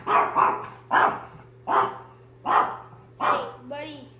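A dog barks six times in a steady, evenly spaced series, loud and close, over a constant low background hum.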